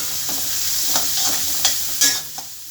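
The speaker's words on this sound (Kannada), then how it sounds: "ಈರುಳ್ಳಿ ಗೋಲ್ಡನ್ ಬ್ರೌನ್ ಕಲರ್ ಆಗೋ ತನಕ ಫ್ರೈ ಮಾಡ್ಕೋಬೇಕು." Sliced onions fry in a pan for an aloo roast, a steady close sizzle broken by several scraping strokes of a spoon stirring them, with no voices.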